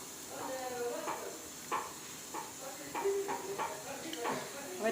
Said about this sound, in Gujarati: હવે તેને સારી રીતે હલાવી લઈશું અને મિક્સ કરી દઈશું